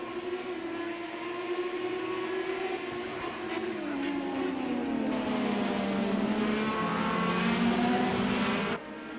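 Engines of IndyCar race cars at Watkins Glen in a racing video game, a continuous droning whine that rises and shifts in pitch as the field restarts, steady and fairly loud without talk.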